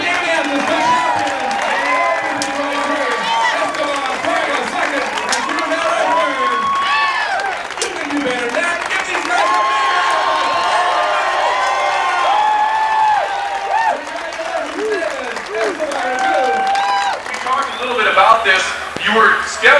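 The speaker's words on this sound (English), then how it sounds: "how about a round of applause for Danny Evans, the champion?" Crowd in Bisbee, Arizona claps and cheers for the champion of the La Vuelta de Bisbee bike race, lively applause with shouting voices and chatter mixed in throughout.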